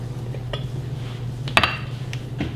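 Cooked pork stir fry being served into a bowl in a home kitchen, heard as soft dish and utensil clatter with one sharp clink of cutlery against the bowl midway.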